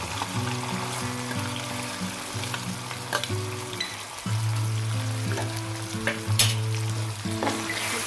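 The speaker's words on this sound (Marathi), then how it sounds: "आता याच्यामध्ये आपण आपला कांदा घालून घेऊया फोडणीला।" Onions tipped into hot oil for tempering a raw jackfruit masala bhaji. A loud, steady crackling sizzle jumps up partway through as they hit the oil, with faint tonal hum underneath and no speech.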